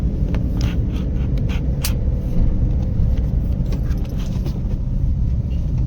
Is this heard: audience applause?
no